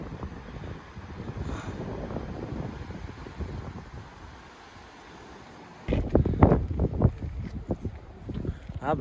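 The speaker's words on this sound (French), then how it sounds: "Toujours plein de vent." Gusty wind at Sintra, near Lisbon, buffets the microphone with a low rumble, growing louder and rougher toward the end, while people talk nearby.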